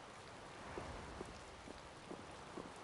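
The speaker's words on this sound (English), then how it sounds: "I believe the ongoing rain and wind are being caused by a Blastia" Steady rain and wind in a PS4 video game, a faint continuous hiss of rainfall with scattered soft drop taps throughout.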